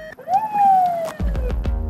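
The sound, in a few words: police car siren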